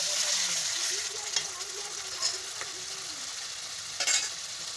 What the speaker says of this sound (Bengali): গাইস এবার আমি কষানো মশলার ভেতরে জল ঢেলে দিয়েছি